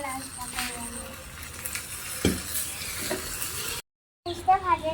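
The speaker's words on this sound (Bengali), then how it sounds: "আবার ভালো করে নাড়াচাড়া করে নেবো।" Food sizzles and is stirred in a miniature pan while cooking a miniature basanti pulao and chicken kosha, a steady close frying hiss with scraping stirs, a brief dropout near the end and a voice under it.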